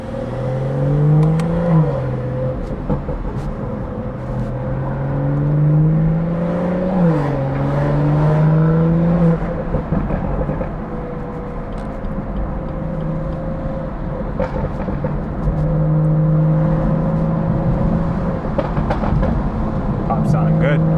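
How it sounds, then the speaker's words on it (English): A car engine with a BMW B58 engine tuned with MHD settings revs and burbles up close, with crackling exhaust pops between throttle changes, while people talk over it. "Even with the windows up, you can still hear the pops."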